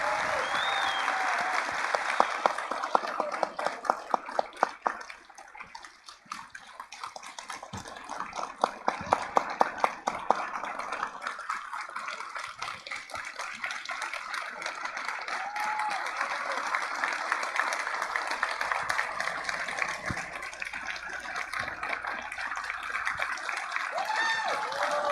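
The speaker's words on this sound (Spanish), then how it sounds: "yo quiero que nuevamente le demos un fuerte aplauso por ese reconocimiento" Sustained audience applause at a business forum opening in Atlántico, Colombia, dense clapping from a large crowd that swells, dips briefly, then builds again and continues steadily throughout.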